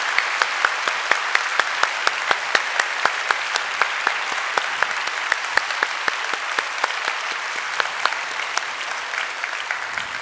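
A church congregation applauds after a Sunday sermon, steady close clapping from a moderate-sized crowd with individual sharp claps standing out, continuing evenly for about ten seconds without voices.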